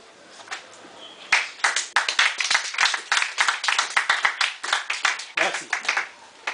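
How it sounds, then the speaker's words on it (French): An audience applauds for the main architect of a reform at a Congolese association meeting. The clapping is dense, irregular and fairly close, builds quickly after a brief quiet start and holds steady, with faint voices underneath. "Je vous demanderai d'applaudir un peu pour l'artisan majeur de la réforme"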